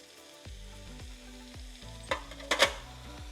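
Food simmers in a pan with olive oil, a quiet steady sizzle under a regular low pulsing, with a few brighter clattering bursts near the middle.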